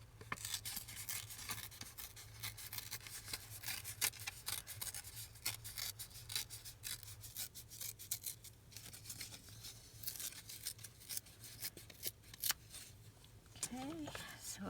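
A paper card is ripped by hand: a long, crackly tearing and rustling that runs on and off at close range, with a few sharper rips near the end.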